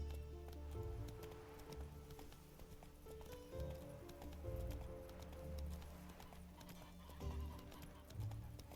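Horse galloping in The Witcher 3, steady rhythmic hoofbeats running throughout with occasional snorts, set over a faint game music bed.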